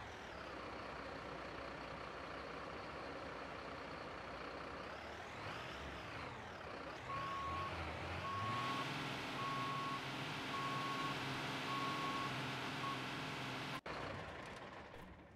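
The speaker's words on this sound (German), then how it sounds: "Wir fahren rückwärts in die Halle, yeah." A fire truck backing into the station hall in the Notruf 112 firefighting simulator sounds steady regular reversing beeps over a low idling diesel engine rumble, moderately close, ending with a brief hiss.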